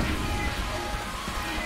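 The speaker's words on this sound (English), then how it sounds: "So we're gonna fight out in the rain." Steady rain hisses across the whole stretch in the Scott Pilgrim vs. the World video game, an even, close wash of noise with faint game music underneath.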